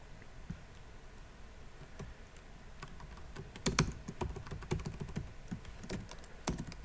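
Code is typed on a computer keyboard in quick, irregular bursts of close clicking keystrokes, growing busier and louder in the second half, with no speech.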